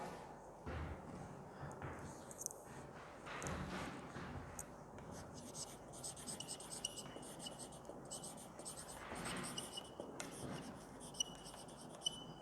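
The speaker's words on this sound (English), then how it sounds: "Here I write it down." Chalk or marker scratching across a classroom board as a teacher writes notes, a steady rubbing, scraping sound with soft taps, close and fairly quiet.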